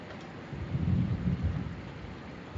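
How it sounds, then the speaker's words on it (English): Thunder rolls in a long low rumble during a severe thunderstorm, swelling and fading over rain and wind with no voices. "You guys hear that thunder?"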